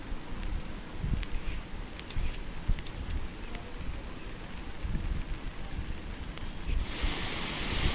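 The flooded Madhuvanti river rushes in a constant, fairly faint roar, buffeted by gusts of wind against the microphone, with a brief louder hiss near the end.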